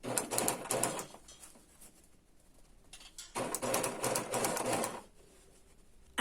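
Sewing machine stitching bias binding onto thick fabric for a quilted child's vest, two fairly quiet runs of rapid chattering stitching separated by a lull.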